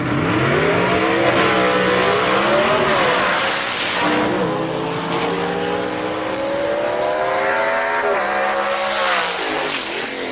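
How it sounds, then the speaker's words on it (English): A small block race car engine accelerates hard down a drag strip during a racing event, its loud, continuous roar rising and shifting pitch through gear changes for about ten seconds, with no talking. "Listen to that small block forward as he powers through the 8th mile marker right there"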